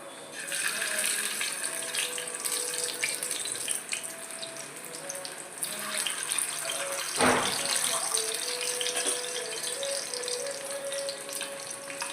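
Chana kofta balls are dropped one by one into hot oil and fry with a steady, loud sizzling hiss that holds throughout, with a brief thump partway through as another ball goes in.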